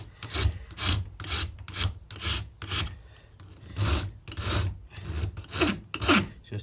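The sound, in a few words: dragon rasp filing a carved wooden shorebird bill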